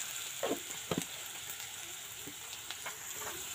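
Sabudana khichuri with turmeric being stirred in a pan, soft sizzling with a few scraping strokes near the start and sparse clinks later, fairly quiet, no speech.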